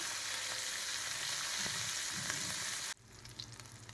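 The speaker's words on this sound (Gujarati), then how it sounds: "ધીમા ગેસે મરચાંને એમાં આપણે સાતવશું મસાલા સાથે" Green chilies sautéing with spices in a pan over low heat: a steady close sizzle and crackle with a faint stirring scrape, dropping abruptly to a quieter simmer near the end.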